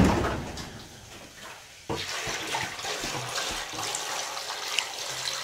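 Water pours into a cooking pot at an outdoor jungle camp while acai is being prepared, making a splashing, gurgling rush that starts abruptly and keeps flowing steadily.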